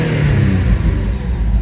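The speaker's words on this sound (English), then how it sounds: "for those out there that don't like me revving engines when they've only been run for a few minutes" An Alfa Romeo car engine, only run for a few minutes and not yet up to temperature, revs loudly up close in a single rising and falling burst, with a dip midway before settling back.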